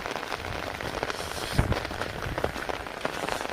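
Rain falling outdoors in a rural fishing spot, a dense steady patter of drops hitting surfaces all around, with a few heavier nearby splats standing out from the continuous wash; no one speaks.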